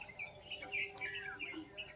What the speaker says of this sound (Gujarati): સરસ મજાના ચકલા બોલી રહ્યા છે